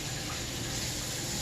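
Tap water runs steadily into a sink while a facial mask is washed off, a constant close gushing hiss with no pauses.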